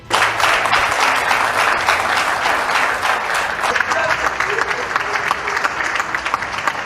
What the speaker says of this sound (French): toujours entrecoupée par des applaudissements de l'assistance